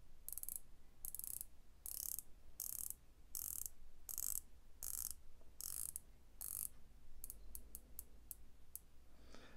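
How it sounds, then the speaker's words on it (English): Titanium Pagani Design PD-YN009 dive watch with a camouflage finish, its 120-click unidirectional bezel turned in several bursts of crisp, close ratcheting clicks that come faster and more spaced toward the end, with no talking. "And it is 120 click unidirectional bezel."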